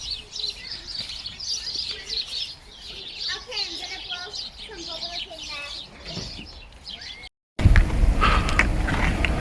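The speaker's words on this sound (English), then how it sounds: "Sparrow Party." Sparrows chirp in a busy flurry in Manchester city centre, a dense chorus of quick tweets over street noise, which becomes louder after a brief break.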